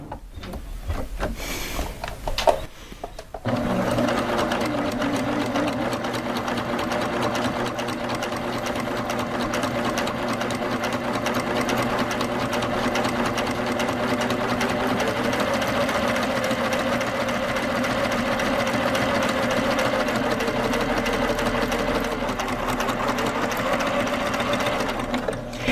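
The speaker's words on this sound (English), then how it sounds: "I'm just going to add that extra stitching in here." A Baby Lock Applaud sewing machine stitches along the edge of a belt loop with a steady, fast mechanical hum and rapid needle rattle that runs unbroken for over twenty seconds after a brief start, close and clear.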